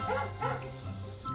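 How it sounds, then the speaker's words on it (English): A dog barks and yips in a quick run of short, fairly quiet bursts, played as a sound to guess in a party game. "That's a dog."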